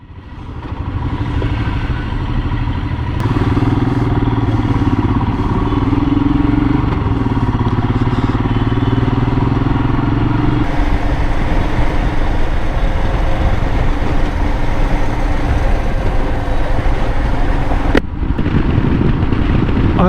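A motorcycle carries its rider through heavy Delhi traffic at night, with a steady, loud engine drone and constant road and wind rumble up close, continuing without a break and with no one talking.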